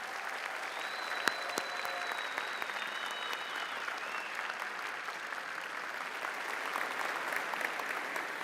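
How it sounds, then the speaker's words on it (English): An audience at a university convocation applauds the graduates' supporters, with a steady, dense wash of many hands clapping throughout, moderately distant, with a few brief voices and tones on top. "I think we should give them a round of applause, folks."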